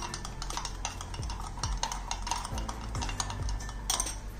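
Spoon stirring salt and ground sugar into a mojito mix in a glass or bowl, a steady run of quick clinking scrapes and taps, close and fairly quiet, no talking.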